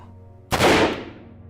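A single pistol gunshot sound effect in a horror radio drama, one loud close bang with a long decaying reverberant tail, alone without speech.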